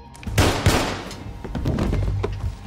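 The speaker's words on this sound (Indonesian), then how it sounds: "Nikolai, namun dengan cepat Allison berhasil menembaknya." Two sharp gunshots ring out close together near the start, followed by rumbling action noise that stays loud throughout.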